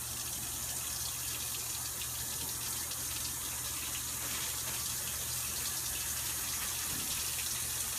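A sink tap runs steadily, a continuous close gush of water with no breaks across the whole stretch.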